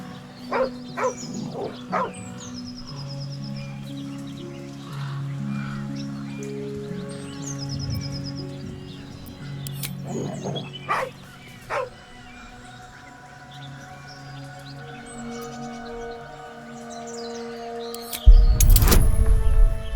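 A dog in the video game Baldur's Gate 3 gives scattered barks, yips and whimpers over a steady layer of game music and ambience, then a loud burst near the end; no talking is heard.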